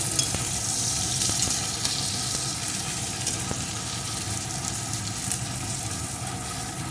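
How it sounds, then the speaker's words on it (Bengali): Chopped onion frying lightly in a pan, just until its color starts to change; a steady, fairly loud hiss of sizzling oil runs throughout, with faint stirring and no speech. "পেঁয়াজ কুচিটা একটু ভেজে নেব, একদম লাল লাল করবো না, জাস্ট একটু কালার চেঞ্জ করে নেব।"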